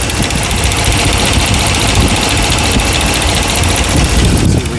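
A rebuilt 5.7-liter engine in a 2009 Ram idles steadily and fairly loud up close, a dense mechanical rumble with a faint fast ticking woven through it, running alone with no talk.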